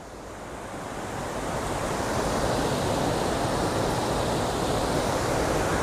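The Gostani river pours out of a cave opening, a loud, steady broadband rush of flowing water that swells in the first second and then holds constant, with no voices.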